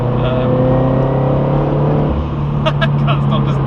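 Turbocharged Toyota GT86 with a modified exhaust pulls hard in fourth gear, a loud steady engine drone filling the clip while a voice talks over it.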